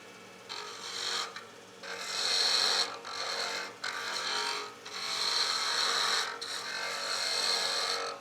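A skew chisel taking planing cuts along wood spinning on a lathe mandrel, a close hissing scrape that rises and breaks off in several passes of a second or two each, with short quiet gaps between.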